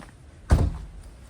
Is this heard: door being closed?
yes